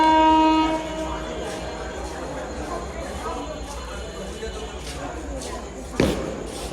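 The Benapole Express arrives, sounding a brief tonal horn blast at the start, then a low rolling rumble of the approaching train with a sharp knock near the end; speech is mixed in.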